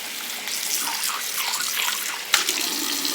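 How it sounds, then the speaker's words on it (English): Tap water runs steadily and close while an old bowl is rinsed under it, with a brief splash or knock partway through. "So rinse it off, and it's like a new bowl"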